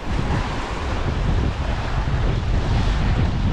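Strong wind gusting across an exposed coastal headland at a northern tip, roaring steadily with surf and buffeting noise throughout, loud and close with no talk.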